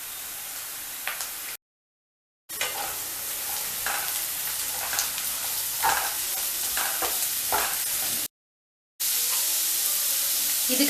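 Cut vegetables being stirred and fried in a pan with sautéed onion, green chili and garlic for veg fried rice, a steady sizzle with scraping stirs, broken by two short silent gaps.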